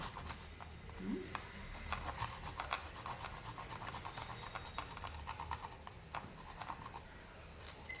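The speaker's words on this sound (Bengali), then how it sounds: "আমি এইটাতে একটু আদাটাকে কুড়িয়ে নিচ্ছি" Fresh ginger is rubbed against a grater in quick, steady rasping strokes, a faint and continuous scraping texture in a quiet kitchen.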